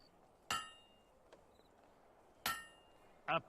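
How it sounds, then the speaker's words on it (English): Hammer blows on metal at a blacksmith's anvil in Fable II, with three sharp ringing strikes: one, another about two seconds later, then a third shortly after, each decaying briefly over quiet background. "A perfect hammer blow."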